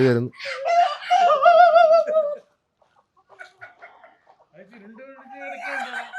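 A rooster in a backyard flock crows loud and close, then softer clucking follows after a brief quiet, with a voice mixed in among the calls.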